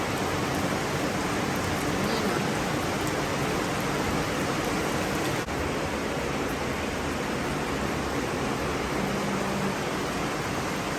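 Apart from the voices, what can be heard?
heavy rain falling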